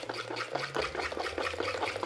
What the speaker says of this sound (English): You keep whisking it until all the lumps have gone.